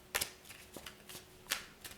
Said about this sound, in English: I will give it a good shuffle.